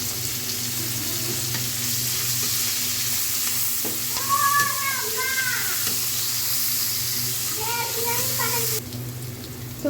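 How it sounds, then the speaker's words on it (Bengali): Pangas fish heads cook in hot oil with chili and onion, giving a continuous close sizzle. Brief scraping and stirring sounds rise in the middle and near the end, and the hiss cuts off just before the finish. "এরপর হচ্ছে মাছের মাথাগুলো কষিয়ে নেব।"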